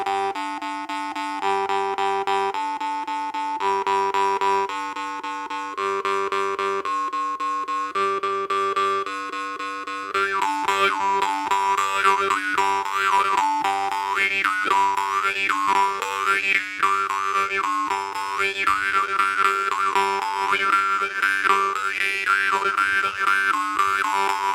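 Jaw harp played alone with a steady twanging drone, first in clean separated pulses, then shifting into denser stuttering breath rhythms with open-close mouth changes for the second half.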